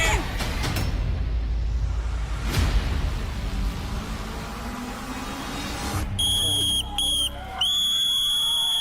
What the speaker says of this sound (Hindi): यहाँ रेफरी ने मार दिए वो आखिरी सीटी